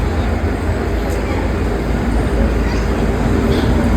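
A passenger train on the Dhoraji to Somnath route pulls into the station with a steady, loud rumble close by, while people talk over the noise.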